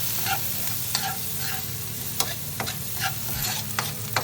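Onions sautéing in a pan over medium heat, a steady sizzle and crackle broken by repeated scraping stirs of a utensil against the pan, close and clear.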